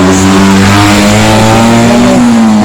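Rally car at a Polish hill-climb round in Korczyna revving hard before the start, a loud, steady engine drone with a slight rise in pitch near the end, close and alone.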